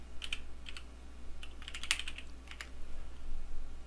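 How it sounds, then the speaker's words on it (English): Keys clatter on a computer keyboard as a search is typed, in short irregular bursts of clicks, close and fairly quiet over a low steady hum. "If I want to search for, let's type in."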